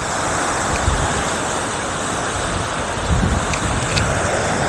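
Rough, choppy sea waves and a strong current at Port Stanley beach at night, a constant wash of surf mixed with wind buffeting the microphone, without a clear break.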